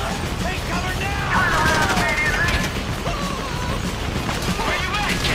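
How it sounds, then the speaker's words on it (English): Sustained gunfire during a GTA Online heist, rapid overlapping shots and fusillade bursts with crashing impacts running throughout, loud and dense, with voices and game chatter mixed in. "You hear that gunfire?"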